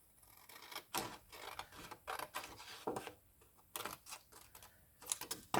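Cardboard being cut for a folder, a series of quick crisp scraping and snipping strokes in an irregular rhythm, close and fairly faint, with no voice.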